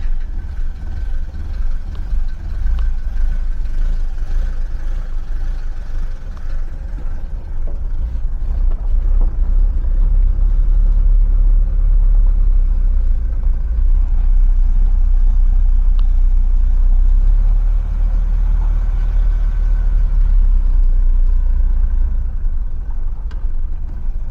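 Hot rod engine runs steadily after a glow plug start, a loud continuous low rumble filling the whole stretch with no talk over it.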